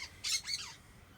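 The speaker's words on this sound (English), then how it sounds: "that's my bird." A pet bird gives a short, harsh squawk followed by a second quick rasping call, faint and indoors, with quiet background between.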